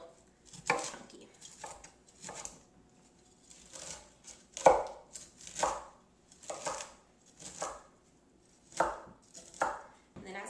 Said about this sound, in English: It just has to be a rough chop, nothing too pretty